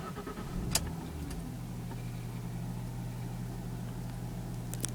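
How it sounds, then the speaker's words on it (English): A Jaguar X-Type 2.5 V6 car engine starts cold with a short burst, then settles into a steady low idle hum at about 1,200 rpm, heard from nearby, with faint clicks over it. "Sounds lovely, just idling on about"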